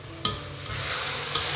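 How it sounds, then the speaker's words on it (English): Onions sizzle steadily in a hot pan while being cooked for French onion soup, a continuous close frying hiss with a couple of brief sharper stirring scrapes, no talking. "Sizzle sounds."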